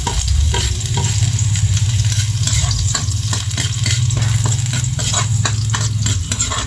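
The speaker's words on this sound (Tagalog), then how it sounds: "ihuhulog na natin yung ating bawang" Chopped garlic sizzling loudly in hot oil for chicken adobo, a dense continuous crackle close to the pan, with frequent stirring scrapes throughout and no talking.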